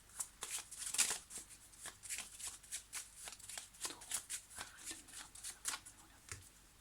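Tarot cards being shuffled for a reading, a quiet, close series of rhythmic riffling flicks repeating about twice a second.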